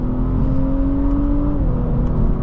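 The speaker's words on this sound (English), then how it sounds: "And these downshifts are amazing." A 2023 Audi S5 Prestige engine hums steadily from inside the cabin, its tone dropping noticeably midway as it downshifts, then holding a smooth, loud drone as it accelerates.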